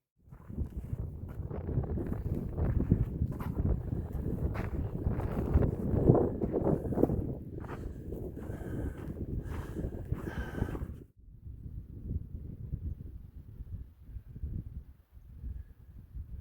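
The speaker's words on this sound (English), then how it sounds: "it's kind of windy" Steady, loud wind buffeting the microphone outdoors at Lassen Volcanic National Park, with rushing gusts that drop sharply to a softer, lower roar partway through. No voices.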